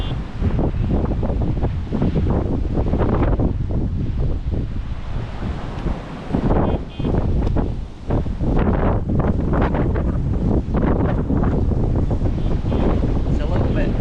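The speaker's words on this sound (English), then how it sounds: "It's a little bit breezy." Strong wind buffets the microphone beside a lake in Cheshire on a February night, a loud, continuous roar with gusty surges and a possible hint of lapping water.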